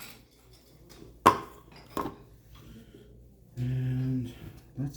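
Small metal lids pressed back onto shoe polish tins during ranch boot cleaning, with two sharp tinny clicks a moment apart and then a brief scraping clatter, over faint room noise.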